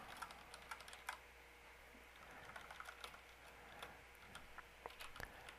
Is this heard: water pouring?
no